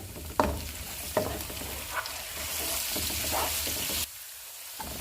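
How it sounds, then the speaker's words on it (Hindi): Cumin and kalonji seeds fry with onions in a pan, a continuous sizzle with a few sharp spatula taps and stirring scrapes, cutting quieter near the end. "इनमें हम ज़ीरा और कलवंजी डाल देंगे और इसको 1 मिनट तक फ्राई करेंगे।"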